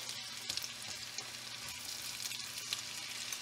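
Chopped mushrooms sauté in a pan for a mushroom sauce, giving off a steady, crackling sizzle with small pops, continuous and alone without any talk.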